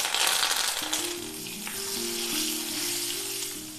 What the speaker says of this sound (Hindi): तेल गर्म हो गया है तो हम इसमें डालेंगे 1/2 चम्मच हींग, 1 चम्मच जीरा, 1 चम्मच राई और साथ में करी पत्ता